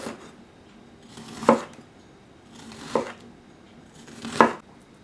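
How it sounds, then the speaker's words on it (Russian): Three slow knife chops through an onion land on a cutting board, spaced evenly about a second and a half apart, crisp and close with no talking. "Нарезаем лук и выкладываем поверх рыбы."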